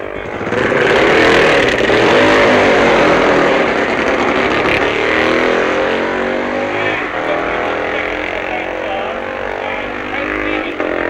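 Racing motorcycles at the 1966 Isle of Man Senior TT roar past loudly, engine note rising and falling as they pass.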